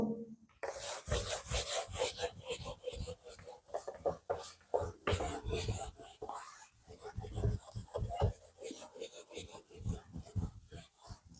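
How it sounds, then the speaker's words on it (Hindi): A duster is rubbed hard across a classroom board in a rapid series of scrubbing strokes, loud and close and continuing throughout, with faint speech underneath. "तो मिटाएं इसको"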